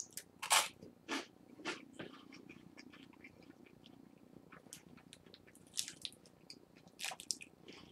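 Crunchy Hanuta wafer snack is bitten and chewed close to the mic, with sharp crisp crunches in irregular bursts over soft quieter mastication.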